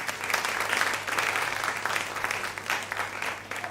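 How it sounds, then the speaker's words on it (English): A crowd at the grand finale of a school public speaking competition claps in steady, continuous applause, moderately loud and even across the whole stretch. "A louder applause, please."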